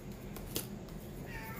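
Pet cats meowing faintly in a quiet indoor room, with a soft meow toward the end over low background noise and a few small thumps.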